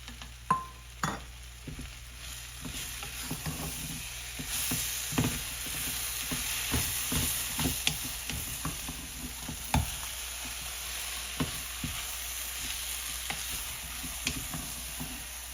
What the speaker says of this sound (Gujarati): હલાવી દઈશું એકવાર. આપણે જે દ્રાક્ષ લીધી છે એ અહીંયા નાખી દઈશું અંદર.